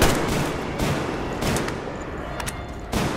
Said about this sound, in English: I guess we're shooting around natural gas now.